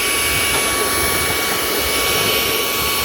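A 4 in 1 blower vacuum runs at full power outdoors, used to clear leaves instead of raking. The jet-like roar with a high whine is loud, close and steady for the whole stretch.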